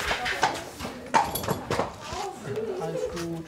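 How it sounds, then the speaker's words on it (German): A horse walking backstage at a pirate-themed outdoor theatre festival, a few separate hoof clip-clops in uneven rhythm, fairly near, mixed with people talking. "Jetzt kommt noch ein Pferd."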